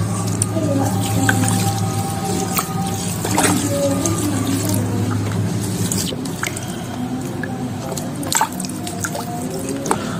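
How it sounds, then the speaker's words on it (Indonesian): Fungicide solution is poured over a rotting snake plant, starting from the stem tip. Close trickling and dripping of liquid runs continuously, with soft splashes and faint voices in the background. "Lalu kita siram semuanya dari ujung batang."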